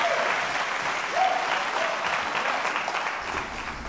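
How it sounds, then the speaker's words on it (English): Steady applause from a sizable crowd at an award announcement fills the space, with a brief whistle or cheer rising through the clapping. "Ladies and gentlemen, round of applause."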